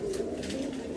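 Pigeons kept by a Delhi fancier coo in a close, sustained low warble that fills the short moment without pause.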